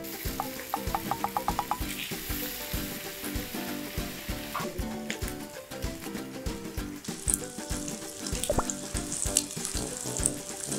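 Bacon fries in a pan with a loud, continuous sizzle broken by quick rhythmic crackles and pops, close up, with no voices.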